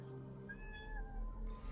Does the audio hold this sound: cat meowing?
yes